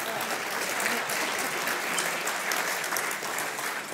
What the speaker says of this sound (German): Ich war richtig gerührt über den Applaus, den ich erhalten habe.